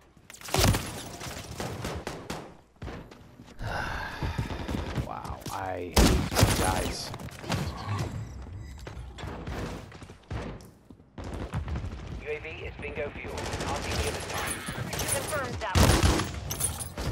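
Modern Warfare III multiplayer gunfire, with automatic bursts and single sharp shots rattling throughout, loud and close, while a voice talks between and over the shooting.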